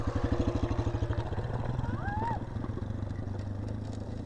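A dirt bike engine putters and revs along a rough quad trail, loud and close at first with a rapid thumping idle, then settling into a steadier drone as the ride continues.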